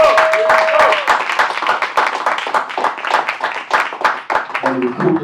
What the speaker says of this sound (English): Another round of applause for Clebo.